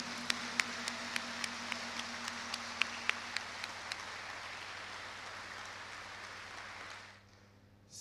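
An audience at a university ceremony applauds a speech: dense, steady clapping from a crowd holds at an even level for about seven seconds, then stops abruptly.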